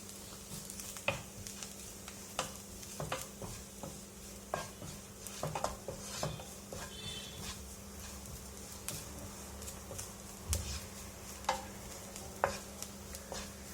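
Onions sauté on a low flame with spice powders such as coriander powder in a pan for an okra milk curry, giving a soft, steady sizzle broken by occasional scraping stirs, quiet and close.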